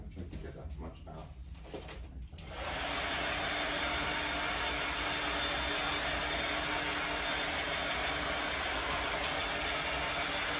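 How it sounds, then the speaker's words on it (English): After a couple of seconds of handling noise, a blow dryer switches on during a clown makeup session and runs as a steady, loud, close whooshing drone until the end. "Just get the blow dryer one second."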